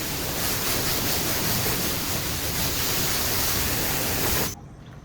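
Steady broadband water spray rinsing a car, a loud continuous hiss that cuts off abruptly near the end, with no voices.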